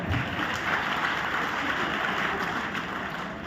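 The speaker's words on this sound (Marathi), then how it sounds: "त्याच्यासाठी एकदा टाळ्या वाजवा." An audience at a wellness coach event in Latur gives a dense, steady wash of applause at moderate volume that holds evenly throughout.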